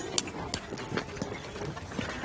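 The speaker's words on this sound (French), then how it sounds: "De 3 chevaux qui sont ici sur ce chantier." Three horses walk on a medieval-style building site, their hooves clip-clopping in a loose irregular rhythm at moderate distance, fairly faint over background outdoor noise.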